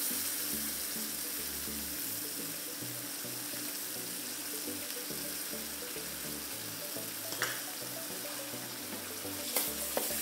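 Kangkong stir-fries with fermented beancurd and oyster sauce, a continuous soft sizzle under occasional spatula scrapes and stirring knocks, with no voices.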